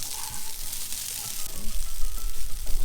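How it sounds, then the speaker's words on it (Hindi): Pieces of split chickpea and pigeon pea dal dhokla fry in a pan with onions and spices. The sizzle is loud and steady and grows stronger toward the end, with some stirring noises mixed in. "प्याज के साथ हम ढोकलों को बराबर सेकते जा रहे हैं।"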